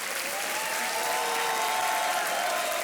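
Studio audience on a TV quiz show, Kaun Banega Crorepati, breaking into dense, sustained applause that holds steady and full throughout, with faint tonal music underneath.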